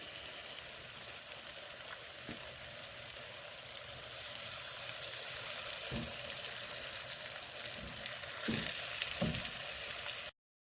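Lemon and garlic salmon pan-searing in a frying pan: an even hiss of sizzling oil that swells louder partway through, with a few soft knocks from the pan.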